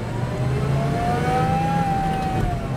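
An Adomani electric stick-shift vehicle pulls away along a road, a steady motor whine rising and falling in pitch over continuous road noise, close and fairly loud with no talking.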